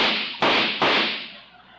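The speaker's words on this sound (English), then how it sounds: "My, what a noisy car." Noisy old car sound effect in a live radio play: two sharp bursts of sputtering backfire-like noise, each fading into a rough broadband rattle, loud and close with no talk.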